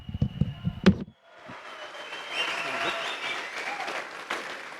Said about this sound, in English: Make some noise for No Limits, Devon Larratt.